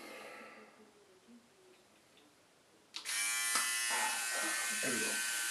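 A Philips OneBlade electric shaver switches on and buzzes loudly and steadily over dry skin for the final few seconds, its tone shifting slightly as it moves, after a quieter stretch.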